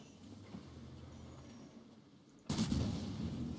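A tank's main gun fires in World of Tanks, a T-103 tank destroyer: after quiet low engine hum, a single loud, sharp, broadband boom hits near the end and rings on with a rumbling tail, with no talk.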